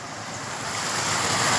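Water rushing over a waterfall on a village river on a cold morning, a steady broadband roar that swells slightly louder toward the end, with no voices.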